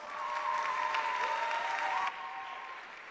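Steady applause from a seated audience at an awards ceremony honoring scholarship laureates, dense and continuous, dropping a notch in level near the end, with a faint sustained tone running beneath.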